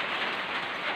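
Steady rain falls in a garden on a rainy morning, a dense, even hiss with no breaks.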